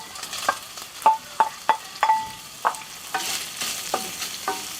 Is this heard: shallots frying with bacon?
yes